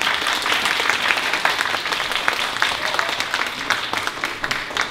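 Audience applause at an elementary school exchange concert: dense, steady clapping from a large crowd, loud and continuous for the whole stretch with no voices on top.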